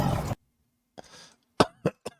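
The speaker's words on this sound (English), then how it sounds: "Excuse me. Cough on the mic." Several sharp coughs right up against a microphone, one burst then a short pause before three quick harsh coughs.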